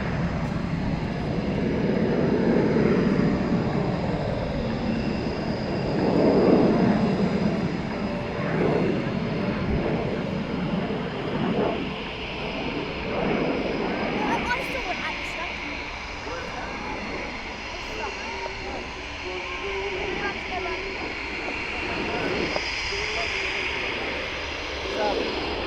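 A Fiat G91R jet flies at the RIAT 2025 airshow, its engine roar steady and loud for the whole stretch and swelling and fading slightly as it passes, with a crowd's murmur and an announcer's voice faintly beneath.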